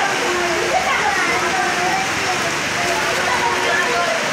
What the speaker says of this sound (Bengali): ঝুম বৃষ্টি হচ্ছে, প্রচুর বৃষ্টি হচ্ছে।